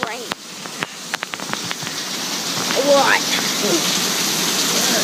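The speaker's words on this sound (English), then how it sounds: "We're getting hail and a lot of rain." Heavy rain with hail pours down steadily, a dense hiss growing louder partway through, with a few sharp impacts early on and a voice speaking briefly over it.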